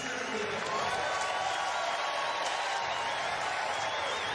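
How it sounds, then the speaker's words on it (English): A stadium crowd at the US Olympic Trials applauds and cheers runner Matthew Centrowitz before the men's 1500 m semi-final, a dense, steady roar of clapping from a large crowd that holds throughout. "A great reception from the crowd here."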